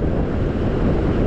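Ocean surf on a beach during fishing, with raging tides and sets of waves, rushing as a loud, continuous wash mixed with heavy wind buffeting.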